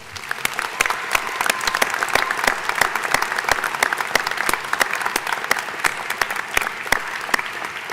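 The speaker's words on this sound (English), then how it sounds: "Please join me in giving our veterans another round of applause." Sustained applause from a large commencement audience honoring veterans at a college graduation ceremony, dense fast clapping filling the hall for several seconds without talk.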